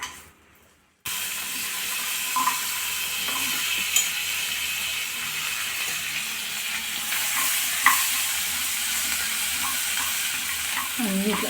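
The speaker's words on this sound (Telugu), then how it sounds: "ఇవన్నీ మనం వేయించుకుందాము పచ్చి వాసన పోయేంత వరకు" Onions, tomatoes, cashews, cloves and cinnamon fry in a pan for butter chicken, giving a loud, continuous close sizzle with occasional stirring scrapes after a brief quiet start.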